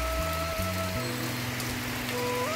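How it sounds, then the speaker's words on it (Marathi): Heavy rain pours steadily in a Konkan village, a dense, even hiss beneath sustained musical tones. "पाऊस जबरदस्त जोरात आलाय."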